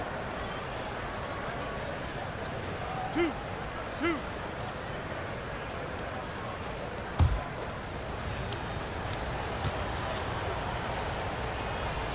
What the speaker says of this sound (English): Shooting for Washington, Trae Young, taking 2 shots.